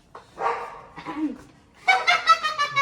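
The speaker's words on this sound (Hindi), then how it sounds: "कुत्ता भी भौंक रहा है।" A dog barks and yips in short bursts, a few sharp barks followed by a quicker run of high whimpering yelps, fairly close and loud with little else around.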